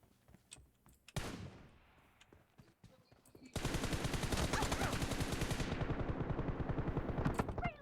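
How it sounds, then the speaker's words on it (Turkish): Gunfire in PUBG Mobile: a sharp shot with a decaying tail, a few scattered cracks, then a sustained rapid burst of automatic fire that runs loud and steady to the end. "çocuğun kafaya da sıkıyorum"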